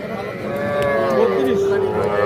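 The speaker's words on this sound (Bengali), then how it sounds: "এই যে এখানে একটা বেশ সুন্দর সাইজের গরু" A cow moos loudly and close at an open-air rural cattle market, a long drawn-out bellow rising in pitch and sustained for over two seconds, with a faint crowd murmur beneath.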